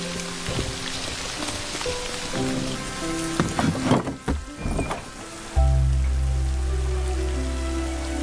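Steady rain falls at night in a Shrek film scene, a dense hiss with patter on surfaces and a low rumbling swell near the end, with no talking.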